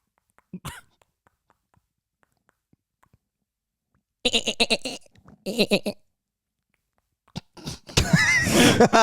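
A voice imitates a baby mountain goat's bleat in a few short, nasal bursts, close up in a quiet room, ending in a longer, louder strained cry.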